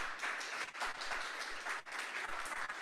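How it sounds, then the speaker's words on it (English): Audience at a conference on climate change adaptation in Ukraine claps after a speech, a moderate, somewhat uneven round of applause with brief dips, heard from the room at medium distance. "A round of applause for our colleague."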